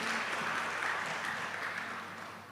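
An audience claps at a question-and-answer session at UKDW Yogyakarta, a dense, even burst of applause that fades toward the end of the short stretch, with no talk over it.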